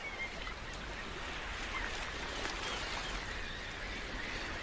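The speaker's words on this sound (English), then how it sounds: "Those are our birds." Distant geese honk faintly through a steady hiss of background noise, the calls scattered and soft.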